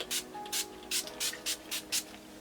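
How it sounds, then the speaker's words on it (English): A flawless makeup setting mist is spritzed seven times in quick, fairly even succession, each a short airy hiss from a close pump spray bottle with brief pauses between. "I'm gonna go ahead and use this Zure Flawless Makeup Setting Mist"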